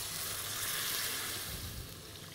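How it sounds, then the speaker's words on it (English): Parsnips sweating in butter give off a steady soft sizzle that dulls slightly as milk is poured into the pan, a quiet close-up hiss with no talking. "we're going to add some milk"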